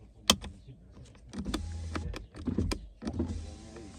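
Several sharp clicks of a Volkswagen Passat B6 power-window switch, close and quiet, with brief motor hums between them.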